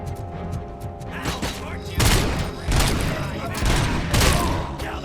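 Gunfire from RoboCop's weapon in the video game RoboCop: Rogue City rings out in loud, dense automatic bursts with booming impacts, while a person talks underneath.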